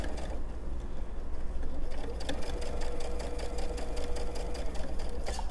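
Sewing machine stitching pajama fabric, a steady, fairly quiet mechanical whir with a rapid needle tapping that quickens toward the middle and continues alone to the end.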